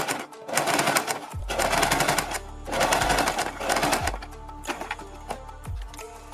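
A sewing machine stitches the neckline of a kurti in rapid mechanical bursts, running in several runs with brief pauses between them, close and clear with no talking.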